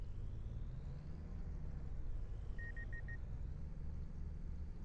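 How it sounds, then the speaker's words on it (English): A farm vehicle in Farming Simulator 25 gives a short run of four quick, evenly spaced beeps over a low, steady engine rumble. "That beep beep beep beep as he went over it"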